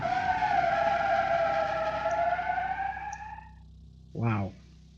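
A car in BeamNG.Drive slides across the line without ABS braking, giving a loud, sustained tire screech with steady tonal squeal that fades out, followed by a brief sharp sweep near the end.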